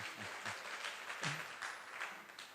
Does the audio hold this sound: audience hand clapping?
yes